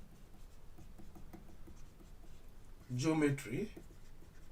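Faint scratching of a pen or marker writing an equation by hand, a light irregular patter beneath quiet room tone, with a voice speaking over it near the end.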